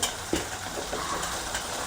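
Onions frying in a pan, a close, steady sizzle with a light stirring scrape near the start, heard alone over a couple of seconds.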